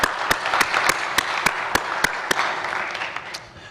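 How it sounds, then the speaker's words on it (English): Applause from a conference audience at a public policy meeting, steady and moderately loud, with a few sharper individual claps standing out near the front as the clapping thins toward the end. "Big round of applause."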